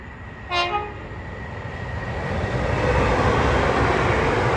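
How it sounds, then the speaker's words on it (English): An LNER Azuma train passes through Colton North Junction. A brief horn sounds first, then the rumble and rush of the train build steadily and stay loud to the end. "And now approaching in through is the LNER Azumas service to London King's Cross."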